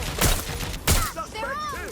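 Gunfire bursts in the Watch Dogs Legion video game: two loud broadband shots about half a second apart, followed by ringing tonal game effects and a brief voice.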